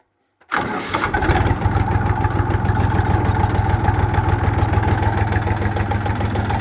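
A Kentavr 244SX mini tractor's KM385VT diesel engine cranks and catches abruptly, then settles into a steady, rapid, loud chugging idle close by.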